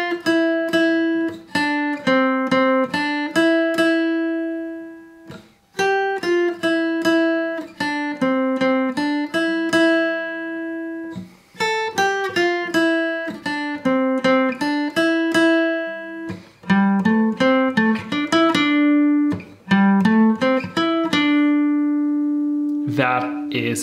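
A fingerstyle acoustic-style guitar melody of plucked single notes and arpeggios, played clearly and alone in repeating phrases with short pauses between them.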